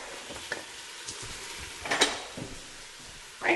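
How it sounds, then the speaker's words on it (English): Beef sizzles and fries in a pan while being flipped, a close crackling hiss with stirring scrapes and a few louder bursts of spatter. "Now I'm going to pop over and flip that meat."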